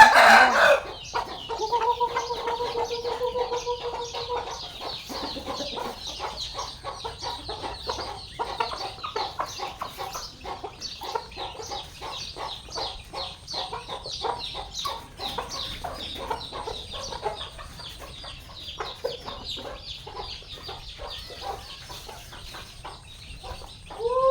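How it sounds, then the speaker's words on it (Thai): About twenty free-range farm chickens cluck busily at feeding time, with a rooster crowing near the start, a dense, steady chorus of clucks close by with no talk. "4 โมงไปแล้วไก่ก็ได้เวลากินเหยื่อแล้ว"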